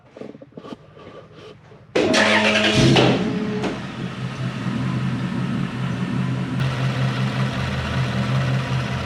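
A Toyota Celsior / Lexus LS400 engine cranks and catches after a couple of seconds of quiet shop sounds, then settles into a steady, loud warm-up idle close by.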